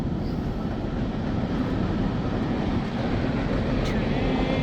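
A continuous, steady rumble of a train passing in the distance, broad and unbroken for the whole stretch, with no voices.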